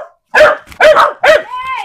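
A pet dog at a small home barks three times in quick, loud, close bursts, then lets out a short whining yelp.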